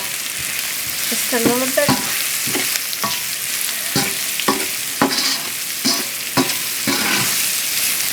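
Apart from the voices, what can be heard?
sausage and leek stir-frying in a pan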